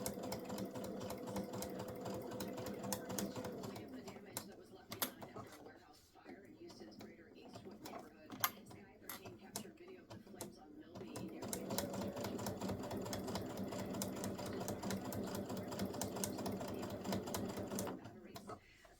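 An embroidery sewing machine stitches a pumpkin-face design onto a hot pad with purple top thread and orange bobbin thread, a steady close mechanical whir that runs through most of the stretch and dips briefly in the middle.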